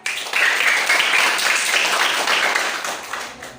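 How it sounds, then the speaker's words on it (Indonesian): A classroom of students bursts into steady applause for a group's answer, a dense, even clatter of many hands that fades toward the end. "Beri aplaus untuk jawaban dari kelompok 2"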